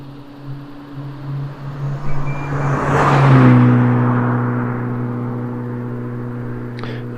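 A Mitsubishi Evo fitted with a new 3.5 inch stainless exhaust drives past at moderate revs, its steady droning note rising as it nears, peaking loudly mid-pass, then holding a lower hum as it pulls away.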